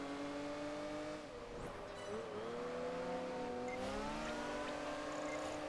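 A racing car's engine in Project Gotham Racing 4, chasing a Lamborghini, revs in smooth rising and falling tones through gear changes, with brief tyre squeal, loud and close throughout.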